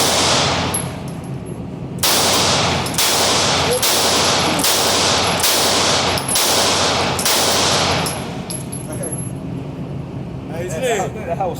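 P250 pistol fired at a shooting range: about seven loud, sharp cracks spaced roughly a second apart, each ringing off with a bright echo, followed by quieter handling clatter and clicks.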